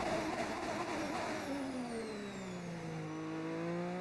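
A 1980s-style turbocharged V6 Formula 1 engine in the F1 25 racing game with a 1986 season mod, a steady buzzing drone whose pitch sweeps down as the car slows, then holds low, heard alone.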